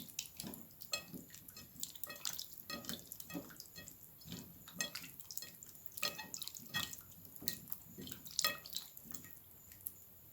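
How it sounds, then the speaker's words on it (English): Running water splashes and drips steadily into a sink, with irregular patters as something is rinsed under the stream, close by and moderately quiet. "And then I'm gonna wash it with some hot water."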